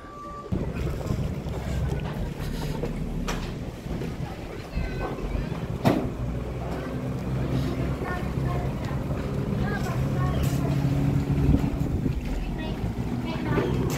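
Passenger ferry on Lake Toba, with a steady boat engine rumble and wind noise running throughout, while people talk in the background.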